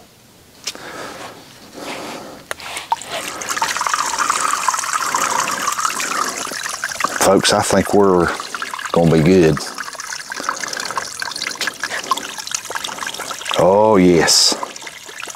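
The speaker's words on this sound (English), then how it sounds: "I can hear water bubbling up in that standpipe." Water and air bubbling and gurgling up through the standpipe of a ram pump, a continuous trickling wash broken by short bursts of louder surging, with someone speaking now and then over the water.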